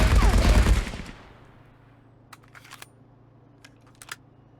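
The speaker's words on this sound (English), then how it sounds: "This is the DPA's 28 hip fire with no recoil control." DPA 28 gun hip-fired in the video game Marauders without recoil control: one loud, dense burst of rapid automatic fire for about a second, then a low mechanical hum and a few light clicks.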